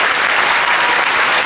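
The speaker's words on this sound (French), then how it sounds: "Vous pouvez applaudir l'ancien ministre des Sports chaleureusement" Steady, dense applause from an audience welcoming a former sports minister, a continuous wash of many hands clapping at even volume.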